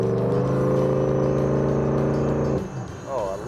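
A high-powered 1947 Hudson street rod's engine revs in a loud, steady harmonic drone up close, then drops off sharply near the end to a lower rumble.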